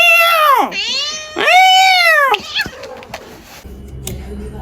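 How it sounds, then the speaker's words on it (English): A grumpy cat lets out two long, loud, drawn-out meows close by, followed by quieter shuffling and faint rustling noises. "So this is my cat."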